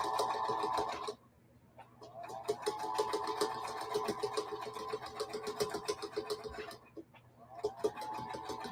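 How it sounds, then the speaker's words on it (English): A sewing machine runs a close, rapid stitch along the edge of a pocket on a feedsack hobo bag, stopping twice in short pauses before starting up again. "I'm sewing very close to the end so my pocket won't come loose"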